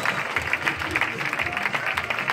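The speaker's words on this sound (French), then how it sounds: "Et je voulais que vous applaudissiez très fort." An audience at a stage hypnosis show claps briskly and steadily for a couple of seconds, close and fairly loud.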